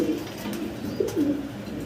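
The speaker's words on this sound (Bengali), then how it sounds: "এর পাশাপাশি আরও অনেক কবুতর আছে" Pigeons coo at a pigeon farm, with a few low burbling coos close by over a soft background hum.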